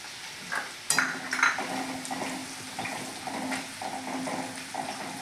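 Cumin, chopped garlic and chili frying in hot oil for a Kathiyawadi dhaba-style vagharelo rotlo, a steady close sizzle broken by a few sharp clinks and scrapes of a spoon stirring in the pan.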